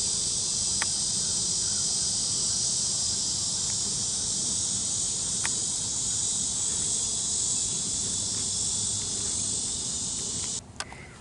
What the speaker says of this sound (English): You can hear the cicadas.